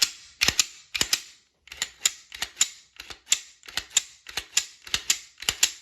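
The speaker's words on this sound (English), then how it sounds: "Just gonna line up our slide with our rails, slide it on back." A Glock pistol's slide being lined up with the frame rails and slid back on, heard as a series of sharp metallic clicks and clacks in fairly regular bursts, close and fairly loud with no talking.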